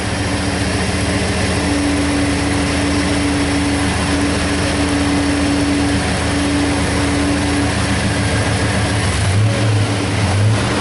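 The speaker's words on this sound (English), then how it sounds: "now I'll rev it up a little" Chevy Tahoe engine with an oxygen sensor fault, heard up close as a steady running drone with a sustained rise in revs through the middle and a brief change near the end.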